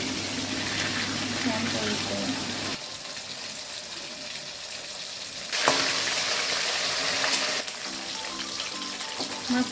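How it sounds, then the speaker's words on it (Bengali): Aar fish frying in hot oil over a medium flame gives a steady, close crackling sizzle that changes in intensity from section to section, with brief stirring sounds mixed in. "এইভাবেই আমি প্রতিটা মাছ ভেজে নেব"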